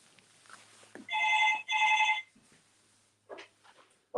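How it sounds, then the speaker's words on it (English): A telephone bell rings in two loud, even bursts, followed by a pause and then a voice starting to speak nearby. "I'm going to answer the phone."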